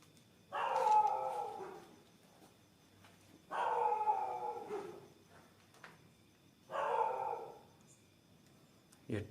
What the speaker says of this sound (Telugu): ఇప్పుడు కుక్కలు ఏడుస్తున్నాయి